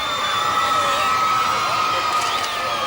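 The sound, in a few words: crowd cheering at the Queen's visit to Maidstone, 1984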